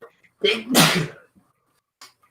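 A single loud sneeze, a short intake then a sharp burst, close by, followed by quiet.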